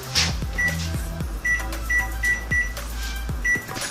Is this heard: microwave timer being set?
yes